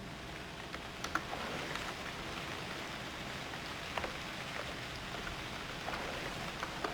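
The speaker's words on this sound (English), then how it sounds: "So hopefully when we get up, it will have stopped raining" Rain in the survival game UnReal World, a soft, steady patter of falling rain with occasional louder drops, faint and continuous with no other sounds.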